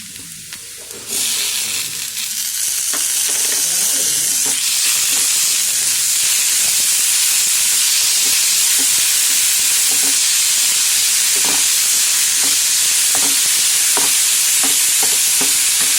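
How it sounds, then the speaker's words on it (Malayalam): Ginger and green chili paste for a potato masala bonda hits a hot pan and bursts into a loud, continuous sizzle after a brief quiet start, with faint stirring scrapes underneath. "ഇതിലേക്ക് ഇഞ്ചി പച്ചമുളക് പേസ്റ്റ് ആക്കി വെച്ചത് ഇതിലേക്ക് ഇടാം"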